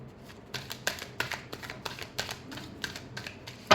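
Tarot cards being shuffled by hand give a run of quick, crisp riffling snaps in irregular bursts, close and moderately loud, with no voices.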